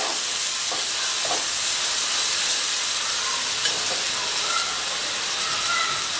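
Onion, tomato and ginger-garlic paste sizzle in hot oil for an egg curry gravy, a loud, steady, broadband frying hiss that holds unbroken from start to finish.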